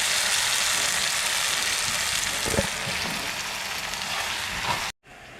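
Curry leaves sizzle in hot oil for a tempering on a gongura chutney, a loud continuous crackle that holds steady and then cuts off abruptly near the end.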